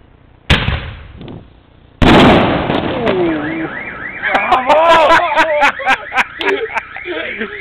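A large bomba africana firecracker bursts with a sudden loud bang, followed by a second, heavier blast, then a car alarm wails in rising, warbling cycles with scattered sharp pops as people talk and shout nearby.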